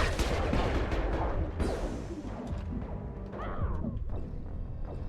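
Bursts of rapid gunfire and crashing impacts aimed at the player in the video game Mass Effect 2, dense and continuous with whooshes, loud over a steady game soundscape.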